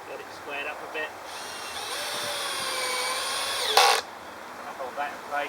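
A power drill whirs steadily for about two and a half seconds, driving a screw into the wooden front of a garden compost heap, then cuts off with a brief higher squeal. Faint quieter sounds come before and after.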